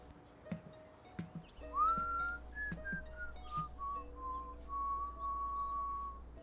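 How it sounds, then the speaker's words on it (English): A character in a radio drama whistles a tune alone, clear and close: a few soft taps, then a rising note sliding into a slow, wavering melody of held pitches. "What's that you're whistling?"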